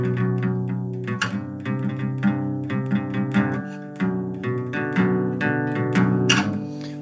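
A guitar picked with a plectrum, its steel strings giving bright, crisp attacks over sustained chords, a steady run of close, moderately loud strummed and picked notes played alone.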